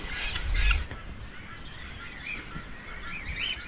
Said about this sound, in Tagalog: Simula lang maingay yung mga maliliit na mingala, oh.